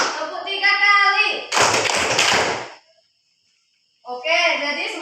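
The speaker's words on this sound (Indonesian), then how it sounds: "tepuk satu kali, tepuk dua kali, tepuk satu kali, tepuk dua kali, tepuk tiga kali" A classroom of students claps hands in short counted bursts, with a teacher's voice speaking before the claps and again after a brief pause.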